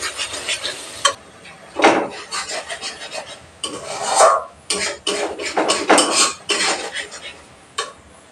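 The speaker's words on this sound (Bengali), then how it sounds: "মিডিয়াম হিটে মশলা কষিয়ে নেব।" Masala spices frying in a pan on medium heat for a prawn and almond gravy, with a utensil scraping and clinking against the pan in irregular strokes and bursts over a faint sizzle, close and fairly loud, no talking.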